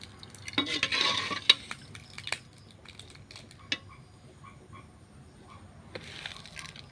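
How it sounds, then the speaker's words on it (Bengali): Semai vermicelli stirred in a pan, soft scraping and a few clear utensil clinks against the metal, with a faint sizzle near the start and end, close and fairly quiet. "সেমাই রান্না করছি।"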